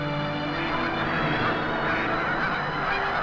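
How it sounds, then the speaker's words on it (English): Migrating Canada geese near Swan Lake National Refuge in Missouri give a continuous overlapping chorus of honks, steady and fairly loud, with a broad rumbling background throughout. "Every fall, the majestic Canada geese migrate southward by the thousands"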